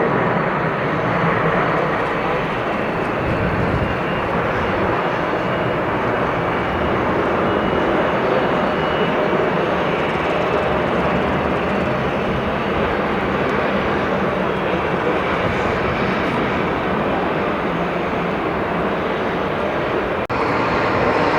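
A jet airliner taking off from runway 22 right at JFK, a loud, steady roar of engines sustained throughout, with no voices.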